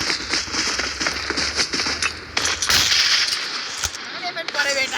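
Firecrackers burst in a festive outdoor setting, a rapid crackling series of sharp pops and bangs near the listener, with loud voices and shouting over and between the blasts.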